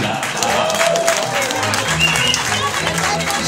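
Steady applause from wedding guests in Vidin, moderately loud and continuous for a few seconds, with murmuring voices and crowd noise underneath.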